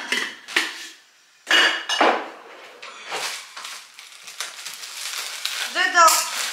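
Pots and pans clank and cutlery rattles in a home kitchen while pasta is put on to cook, in short metallic knocks and scrapes with speech in between.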